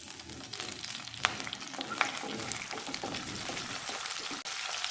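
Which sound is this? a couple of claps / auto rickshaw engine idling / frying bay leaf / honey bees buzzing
frying bay leaf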